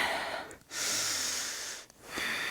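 Slow, deep breaths during a yoga stretch: a long airy exhale followed by another drawn breath, close and soft, with no talking.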